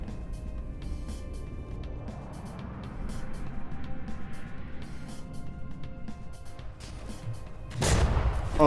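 Ship cannons fire in the naval combat game From the Depths, heavy booming shots over a constant engine and water rumble, with a louder burst near the end.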